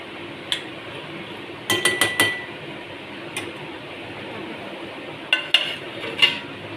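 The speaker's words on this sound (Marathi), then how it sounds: "असं परतून घेऊया आणि पुन्हा आपण 15 मिनिटं झाकण ठेवून वाफूया।" Sautéed food is stirred in a pot, with a steady scrape beneath scattered metallic clinks, a quick cluster of clatters, then a few more knocks as a lid settles on top; no one speaks.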